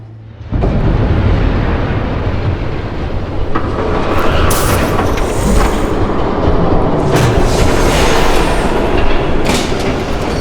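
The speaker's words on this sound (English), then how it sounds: "There's a train coming." A train thunders past in the Batman Telltale Series game, a loud rumbling rush that starts abruptly and continues with rattling wheels, clanks and metallic squeals over about ten seconds, close and heavy.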